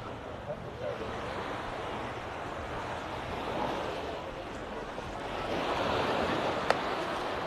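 Faint, steady wash of surf on a beach in Side, Turkey, in mid-June, a soft continuous roar rising and falling gently with light wind noise and no clear voices.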